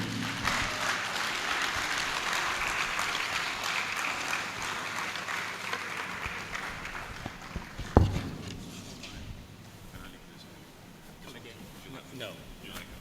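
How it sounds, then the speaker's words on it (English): Audience applause for a closing keynote speaker at a conference, broad clapping that fades after a sharp knock partway through, while talk carries on over it. "A round of applause for him."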